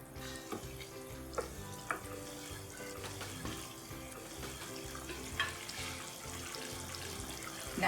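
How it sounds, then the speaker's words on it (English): Chicken keema pasta simmering in a pan after a splash of water, a low steady bubbling and watery hiss with scattered faint clicks and stirring touches, fairly quiet and close, no voices. "So I'm going to add another 1/4 cup of water to this."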